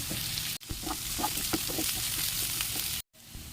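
Chopped onion fries in oil with five-spice seeds and ridge gourd, a continuous close sizzle broken by two brief silent gaps, with light scraping of a spoon.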